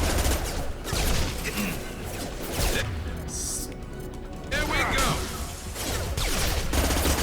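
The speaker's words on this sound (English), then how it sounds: "A couple of explosions." Several booming explosions and crashing bursts from Mass Effect 2, heavy and loud, with gaps of quieter rumble between them.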